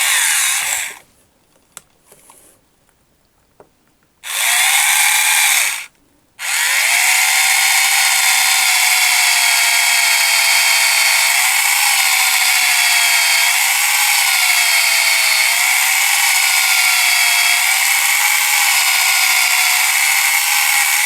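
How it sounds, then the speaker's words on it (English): A power drill bores slowly into the soft plastic head of a vintage MOTU Stonedar or Rokkon toy during a repair. After a few brief starts it settles into a loud, steady, high whine that holds for about fifteen seconds with slight wavering, and no one talks. "I'll just drill slowly, see what happens"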